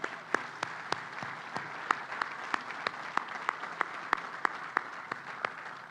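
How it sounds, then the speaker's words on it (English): Applause for the tradespeople at a construction topping-off ceremony for the Cleveland Clinic Global Peak Performance Center, a light round of distinct claps in a loose, steady rhythm, heard at a modest distance. "Let's give another round of applause to them."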